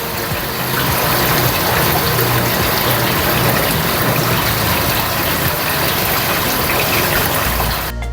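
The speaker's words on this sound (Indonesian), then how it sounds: "bisa juga mendapatkan manfaat dari keseruan melihat pancuran airnya, suara gemercik airnya" Water from a fountain spout splashes and gushes steadily into a tilapia fish pond, a continuous close, loud rushing wash with no other sounds.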